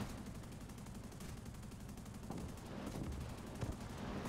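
Machine gun fire from an aircraft in the combat game War Thunder, a faint, steady rattling stream of rapid shots under low engine drone, with a few slightly louder bursts near the end.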